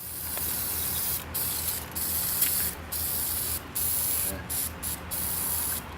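Water sprays hard against a 1998 Integra B16A2 engine block being rinsed, a close hissing jet that cuts off in several brief gaps and then resumes.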